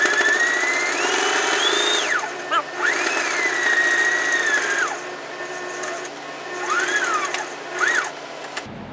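A sewing machine stitches a seam on a T-shirt sleeve face mask, its close, steady whirring rising and falling in pitch through several bursts of speed with brief slowdowns between runs.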